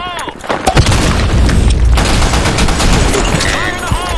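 A Counter-Strike style grenade goes off in a shooter game: a loud, near blast with a dense, sustained roar, mixed with rapid gunfire and rumbling booms over about four seconds.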